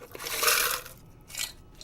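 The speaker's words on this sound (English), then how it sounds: "give me some ice" Ice cubes clatter and crunch into a cocktail shaker in two quick bursts, a bright rattling spill followed by a shorter, lighter tumble.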